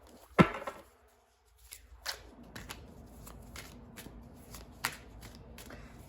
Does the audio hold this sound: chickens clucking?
no